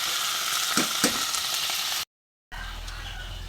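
Dried fish and vinegar sizzle and fry in a pan, a bright, close crackling hiss with a couple of stirring scrapes, cut off briefly by a gap before a quieter sizzle resumes.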